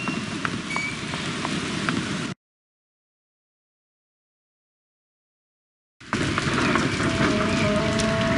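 Steady rain patters on a surface in the video game A Series of Unfortunate Events, cuts to complete silence for several seconds, then returns just as dense.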